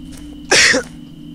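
A single short, sharp cough bursts out close to the microphone against a quiet background hum during a horror survival game.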